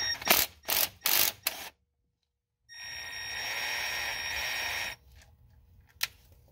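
Ratchet loosening a Torx bolt that secures the valve body on a Ford 6R140 transmission, three quick clicking bursts, a pause, then a longer whirring ratchet run and a final click, close.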